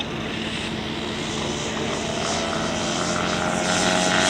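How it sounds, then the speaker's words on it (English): Buzzing small model airplane propeller engine restarting at an air show, building steadily in loudness over several seconds, whining at a constant high pitch. "He restarts the engine"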